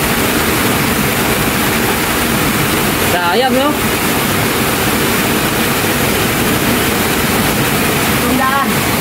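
Water rushing through a hidden tunnel beside a river makes a loud, steady roar that fills the space without a break. Someone speaks briefly over it now and then.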